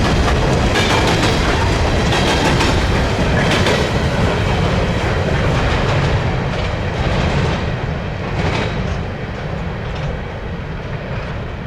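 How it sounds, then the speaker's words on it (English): A freight train of empty rapid discharge hoppers in the Shenandoah Valley rattles past loudly and continuously, with clattering wheels and clanking cars throughout. "the empty rapid discharge hoppers rattled the town of Craigsville 98 times"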